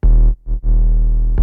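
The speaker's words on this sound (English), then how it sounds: "So what you hear here is velocity sliding." Deep 808 bass notes with velocity sliding, a long sustained low tone that drops out briefly, returns as a short swell, then holds steady before a fresh attack at the end, loud and alone with no voice.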